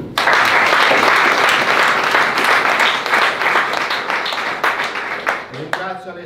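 An audience applauds at the inauguration of a Lega party office in Rivarolo Canavese, a loud sustained burst of many hands clapping that thins out and stops near the end, with a voice entering as it fades.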